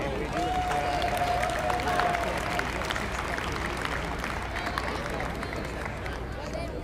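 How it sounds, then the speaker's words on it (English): Crowd applause and cheering at a baseball event honoring players, coaches and parents, a steady broad wash of clapping that carries through the whole stretch with background voices mixed in. "Just give all of them a big round of applause."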